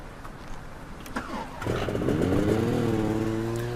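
A scooter engine in the video game Syberia II starts up and pulls away, its buzzing tone climbing and holding steady, moderately loud with a faint electronic quality.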